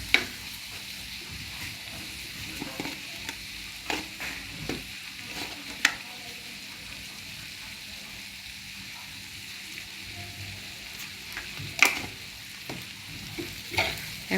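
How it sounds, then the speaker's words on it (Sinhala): Chilli pieces fry in oil in a pan for sausage tempering, giving a soft continuous sizzle broken by occasional stirring clinks and scrapes. "දැන් හොඳට මේක තෙලේ බැදෙන්න ඕනේ මිරිස් කෑලි ටික."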